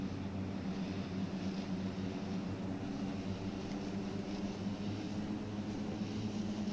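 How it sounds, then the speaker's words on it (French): A Spitfire aircraft drones overhead with a steady, low propeller-engine rumble that holds evenly throughout, moderately loud with no talking. "Là il y a des avions, des Spitfire."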